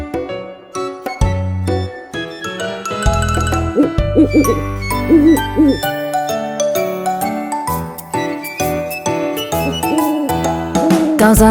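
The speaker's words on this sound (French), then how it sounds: "Dans un chêne vivait un vieux hibou." Owl hoots play within a bright children's song backing of chimes and bells, appearing as a few soft hooting notes blended among the musical tones rather than heard alone.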